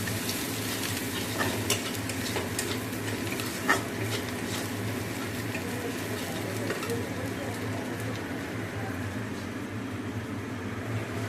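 Whole tomatoes frying in a pan of marinated food, with a steady sizzle and occasional metal spoon scrapes and clinks as they are stirred, continuous and close throughout.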